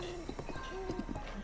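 Horse hooves clip-clop in Breath of the Wild, a quick run of close, rhythmic hoof clops over a tonal game music bed.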